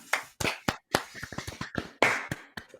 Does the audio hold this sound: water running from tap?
no